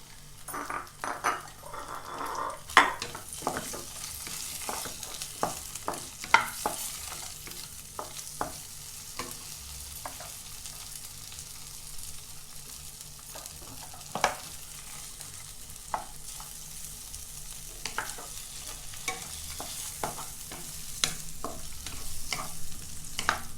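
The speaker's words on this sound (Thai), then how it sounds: "พี่ขอทำไข่ให้เสร็จก่อนเนาะ ขั้วกุงเชียงนะคะ ใส่น้ำมันนิดหน่อยเนาะ" Egg and Chinese sausage frying in a little oil, a steady soft sizzle with repeated scrapes and clinks of a utensil stirring in the pan.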